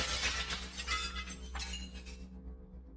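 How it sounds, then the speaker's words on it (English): Glass shatters in a sharp, loud crash, and the broken pieces clatter and tinkle as they fade over about two seconds. "I heard glass shattering from"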